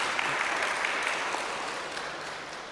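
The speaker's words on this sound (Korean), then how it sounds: "박수로 환영했습니다." A church congregation applauds in welcome for visitors from a neighbouring church, a dense steady clapping that fills the room and slowly fades toward the end.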